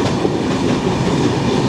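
A passenger train rolls steadily along the rails, a loud, close, continuous rumble with a faint wheel rattle and no break.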